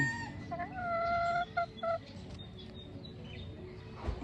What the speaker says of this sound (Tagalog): Mga quality hens.